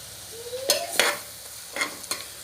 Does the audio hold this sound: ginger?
yes